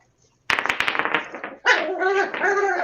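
A Chihuahua barks in a quick run of sharp yaps, then lets out higher whining yips, close and loud.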